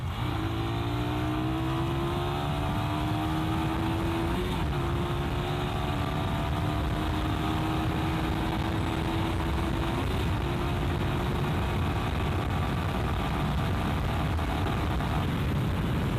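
A motorcycle engine running on fresh Top One Evolution MC SAE 10W30 oil revs steadily and loud, its pitch rising and falling through several throttle pulls over a constant drone, with no talk.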